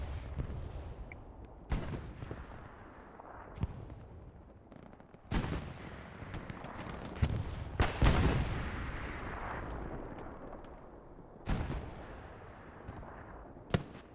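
Gunfire from infantry during a competitive online war game match, with scattered sharp shots and heavier booming explosions, some near and loud, others distant, over a continuous battlefield rumble.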